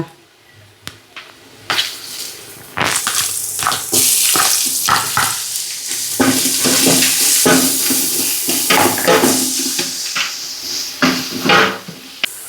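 Ginger-garlic paste frying in a pot while prawn biryani is being cooked, with a steady sizzle broken by scraping stirs and clinks of a utensil against the pot, fairly close and loud.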